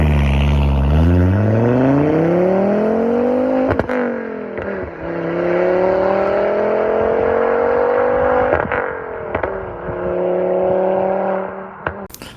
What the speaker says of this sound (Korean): 이 엔진을 장착한 차량 역시 특유의 개성 넘치는 배기음을 자랑하는 것이 특징입니다